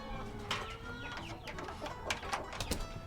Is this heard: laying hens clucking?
yes